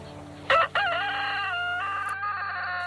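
A single rooster crows nearby, a long drawn-out call standing alone against a quiet background.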